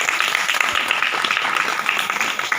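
Steady, dense audience applause at a women's empowerment meeting in Uttar Pradesh, honoring a guest; a continuous wash of many hands clapping fairly close, with no clear talk over it.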